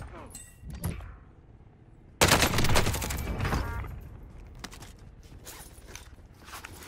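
Rapid gunfire in the battle royale shooter Call of Duty Warzone, a loud sustained burst of shots that starts abruptly and fades into scattered clatter, with faint movement and mechanical noises before it and a voice heard nearby.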